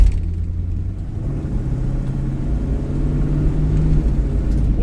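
A 1969 Ford Mustang Mach 1 with a 428 R Code V8 and shaker hood rumbles steadily from inside the car while cruising around the block, a deep low drone that swells slightly louder toward the end, with no talking.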